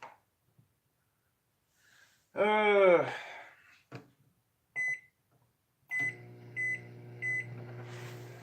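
A microwave oven heats plastic for making fishing baits, a few short beeps sounding before a steady low running hum sets in with repeated beeps over it, and a brief voice is heard earlier.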